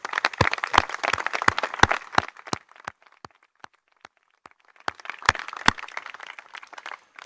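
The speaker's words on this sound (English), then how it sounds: "Let's please give them all a round of applause" A small audience claps sparsely for first responders at a 9/11 memorial unveiling. Distinct sharp claps start scattered, thin to isolated single claps, then build into a brief second round.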